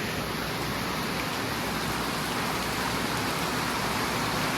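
Steady rain pours outdoors on a worksite with generators set out in it, a dense unbroken hiss filling the whole stretch with no voices.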